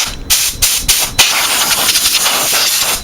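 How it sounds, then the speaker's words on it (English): A workshop air pressure gun fed by a repaired air compressor fires several short bursts of compressed air, then holds a steady loud hiss that runs on to the end. "I have my pressure gun here,"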